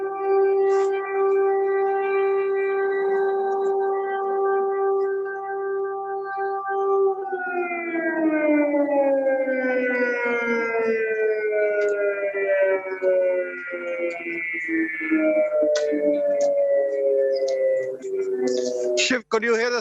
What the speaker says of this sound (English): We just heard that air raid siren.